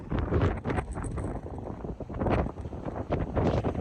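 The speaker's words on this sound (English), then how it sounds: "It's so windy." Heavy gusts of wind buffet the microphone in rumbling bursts on a black sand beach in Iceland, loud and continuous with no voices.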